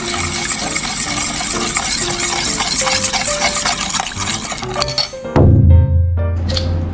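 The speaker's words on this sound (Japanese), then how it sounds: "酢大さじ3、砂糖大さじ1、塩小さじ1を入れ混ぜます。" Vinegar, sugar and salt being stirred together in a bowl as a seasoning liquid for sushi rice, with steady scraping, clinking utensil strokes against the dish, close and fairly loud, ending in a brief heavier knock.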